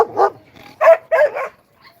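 German shepherd giving a few loud, close barks in quick succession, spaced irregularly with short pauses between them.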